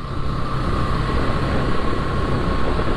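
Kolkata Metro train at Joka, the terminal station of the Joka–Esplanade line, gives a steady loud rumble with a constant hum, close by and unbroken, with no voices over it.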